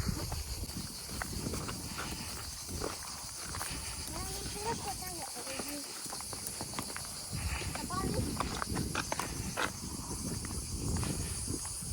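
Horse hooves clip-clop at a steady walking pace at a show-jumping competition, under outdoor noise and a high insect-like hiss, with some indistinct voices.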